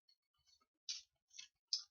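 Tarot cards being shuffled give three short, crisp papery bursts spaced about half a second apart, with faint ticks before them, close and otherwise quiet.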